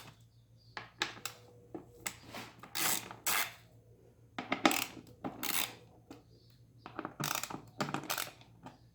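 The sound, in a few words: Allen socket loosening bolts on Kawasaki Vulcan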